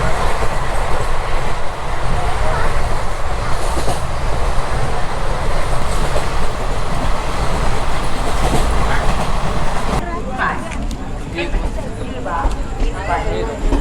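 Rewa Itwari Express pulling out of a station platform, with a loud steady rumble of rolling railcars and wheel clatter throughout, dropping somewhat near the end as voices and platform noise come through.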